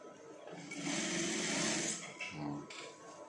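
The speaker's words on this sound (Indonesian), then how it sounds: "langsung yang kecil dulu dijahit" A sewing machine stitches a school shirt with a steady whirring run that rises and then eases off, followed by a shorter burst of stitching.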